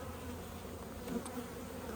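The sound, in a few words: honey bees buzzing around an open hive colony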